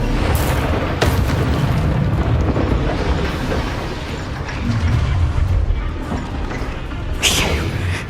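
Incendio and Expelliarmus spells cast in Hogwarts Legacy boom and burst over a constant loud roar, with sharp hits near the start and another late blast.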